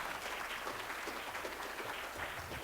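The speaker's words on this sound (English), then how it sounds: "Let's give them a round of applause." Audience applause at a New Mexico State Treasurer's financial-literacy event: a soft, steady wash of many hands clapping, distant and faint, continuing without a break.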